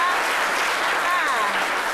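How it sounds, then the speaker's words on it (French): A studio audience on a French celebrity gossip show applauds, a dense, even wash of clapping lasting two seconds with a faint whistle or cheer riding over it. "On peut applaudir les mamans quand même."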